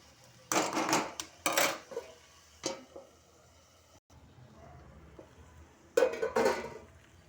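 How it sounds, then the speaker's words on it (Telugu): Soaked moong dal going into cabbage in a cooking pot, heard as a few bursts of clattering metal pot and utensil knocks, moderately close, with short quiet gaps between them. "పెసరపప్పు వేసేసుకుంటున్నాను"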